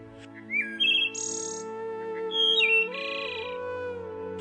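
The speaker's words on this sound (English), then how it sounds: "The haunting call of the wood thrush." A wood thrush sings in an eastern United States forest, clear fluting phrases with rising notes and a buzzy trill, close and distinct over a steady humming background drone.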